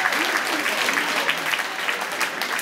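Dense, even applause from the audience at an end-of-season judo club gathering and general assembly, sustained clapping filling the room without pause.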